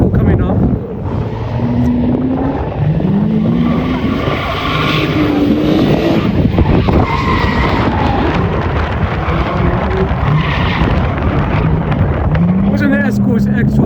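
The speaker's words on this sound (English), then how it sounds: "We've got a Ford Escort coming up." A Group B-era Ford Escort rally car at a Race Retro event passes loudly with rising and falling engine revs and tyre noise, while a commentator talks over the wind-buffeted roar.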